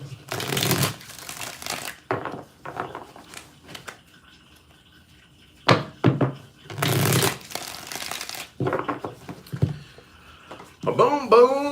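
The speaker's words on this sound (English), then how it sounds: "2 more shuffles." Tarot cards being shuffled for a mini reading, several close, crisp bursts of riffling and fluttering card noise, separated by pauses, with a voice speaking briefly near the end.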